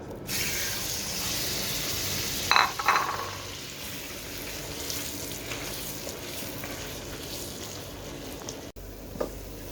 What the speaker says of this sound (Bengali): ঘি গরম হতে বেশি সময় লাগে না, সাথে সাথে দিয়ে দিলে হয়। তো আমি দিয়ে দিচ্ছি এখানে খেজুরটা